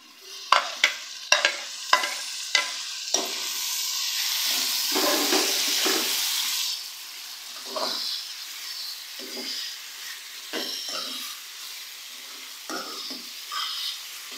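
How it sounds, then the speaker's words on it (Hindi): Chicken pieces and three tomatoes stirred and fried in a pan for bhuna chicken, opening with several sharp spoon knocks against the pan, then a loud steady sizzle that settles into softer frying with intermittent scraping stirs. "टमाटर डालने के बाद अब हम चिकन को अच्छी तरह से भून लेंगे"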